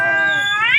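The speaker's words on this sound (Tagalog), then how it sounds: "Ibang klase mag-away yung mga pusa." Cats fighting, a sustained high yowling caterwaul that rises in pitch toward the end, loud and close with no talk over it.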